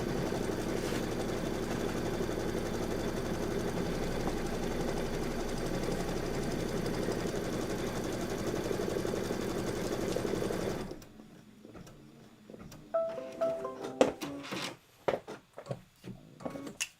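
An embroidery machine stitches through quilt batting and background fabric with a steady, close mechanical whir for about ten seconds, then stops and gives way to scattered clicks and handling noises.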